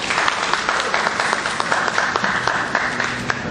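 An audience at a festival talk claps steadily and densely, with individual hand claps standing out in the close, continuous applause.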